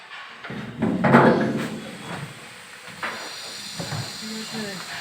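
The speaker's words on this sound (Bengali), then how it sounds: "এই বরফ ক্যানগুলো তোলা হয় এই ট্রেনের মাধ্যমে।" An ice factory hoist lifting ice cans gives off a hissing rush of air under loud nearby voices and clanking plant noise.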